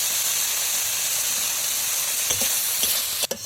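Fish frying in a pan with turmeric and chili powder, a steady close sizzle and hiss throughout, with a few soft clinks of stirring near the end and no voices.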